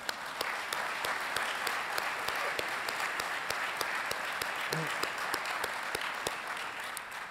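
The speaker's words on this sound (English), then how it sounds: "Would you join me in a round of applause?" Sustained applause from an audience at an Ohio EMS conference award presentation, a steady dense wash of clapping lasting the whole stretch at moderate distance, honoring the speaker's wife.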